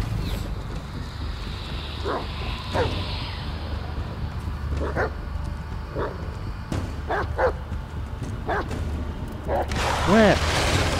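A dog named Bullet barking in the horror video game Blair Witch: several sharp, fairly distant barks spaced irregularly over wind-like ambient noise, with a louder bark cluster at the end.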